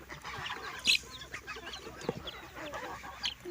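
Hens clucking in short bursts, with a few sharper calls standing out over a busy farmyard background.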